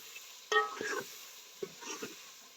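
Green chilies fry with chicken pieces in a pan, giving a quiet sizzle that flares in two short bursts of stirring and spattering, with near silence between them.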